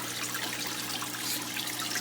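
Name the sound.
running water from aquarium waterfall tank system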